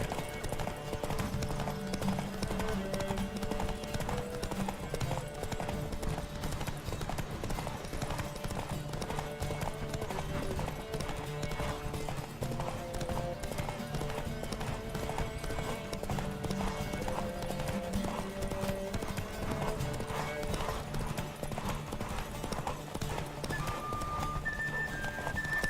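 Hooves of a horse galloping in The Witcher 3 video game clip-clop in a steady, rapid rhythm, set within continuous game music, with an occasional whinny.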